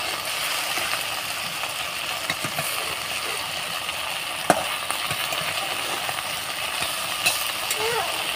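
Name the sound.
okra and fish roe frying in pan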